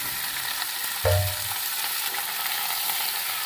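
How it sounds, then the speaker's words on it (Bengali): Washed onion greens go into hot oil in a pan, setting off a sudden loud sizzle that quickly settles into a soft, steady frying hiss, with no voices heard. "পেঁয়াজ শাকটা যে সবজিগুলো আছে ধোয়া আছে ভালো করে তো এটাকে আমি দিয়ে দিলাম তেলের মধ্যে"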